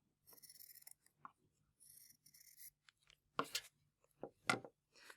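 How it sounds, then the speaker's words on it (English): Several short crisp snips and rasping cuts from fabric scissors cutting fabric, close by and quiet, coming in uneven bursts with brief pauses between them. "I'm going to take my fabric scissors and I'm going to cut round the shape"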